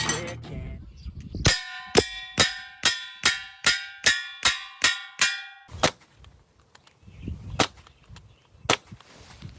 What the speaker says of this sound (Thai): ขออนุญาตยิงสามนัด